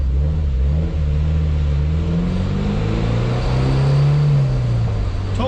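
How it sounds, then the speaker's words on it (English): Turbocharged Honda S2000 pulling hard at full throttle, its engine note climbing steadily in pitch as a loud, continuous, close-up drone. "This car just picks up right when you stab the throttle"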